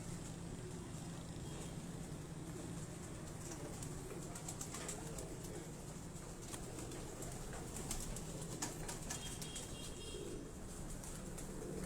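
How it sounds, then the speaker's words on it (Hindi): Flying-breed pigeons coo softly at rooftop lofts in Lahore under a dense, constant wash of outdoor background noise. "कबूतर।"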